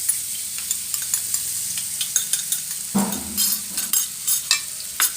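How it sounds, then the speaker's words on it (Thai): Oil sizzles as chopped chili and garlic are stir-fried, with repeated scraping of a utensil against the pan in uneven bursts. "ผัดพริกกระเทียมให้หอมนะคะ"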